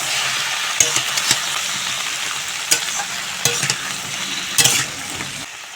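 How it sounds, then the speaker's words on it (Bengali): Chopped flat beans frying in hot oil with a little turmeric and salt, giving a loud, continuous close sizzle with occasional sharp stirring scrapes and clicks from the pan, and no voices. "এখন কেটে রাখা শিম ভেজে নেব।"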